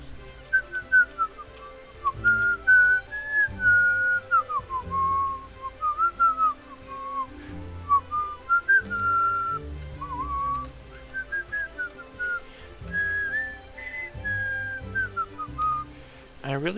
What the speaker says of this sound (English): I really just cannot help myself when I whistle.